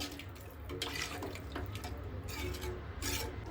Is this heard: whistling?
no